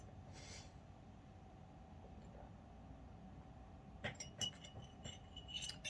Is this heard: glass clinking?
yes